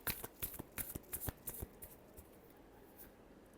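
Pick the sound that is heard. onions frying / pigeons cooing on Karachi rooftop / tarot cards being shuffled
tarot cards being shuffled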